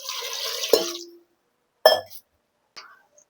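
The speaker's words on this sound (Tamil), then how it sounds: "இந்த சொம்பில் ஒரு சொம்பு தண்ணி ஊற்றிக்கலாம்." Water is poured from a small metal pot into a cooking vessel for mutton leg curry: a brief splashing pour of about a second, followed by a few sharp metallic clinks and quiet gaps.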